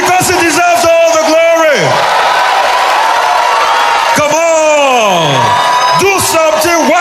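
At a Christian crusade, a packed crowd screams and whoops loudly, with long rising and falling shouts in several waves over a constant roar of voices.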